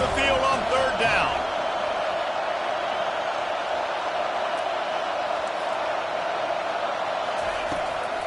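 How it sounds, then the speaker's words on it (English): A home crowd roars steadily at a college football game as the defense faces third down, a loud, dense wash of cheering that holds throughout after a brief voice at the start. "Here comes this home crowd as the defense tries to get off the field on 3rd down"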